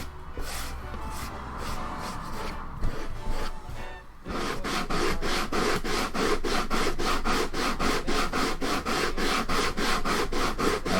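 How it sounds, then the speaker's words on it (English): Steady, rhythmic rasping strokes of hand sanding on wood for a clay pot refrigerator, close up, starting irregular then settling into a fast even back-and-forth pattern. "Sanding feels endless"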